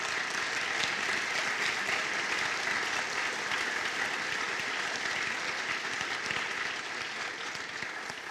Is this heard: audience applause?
yes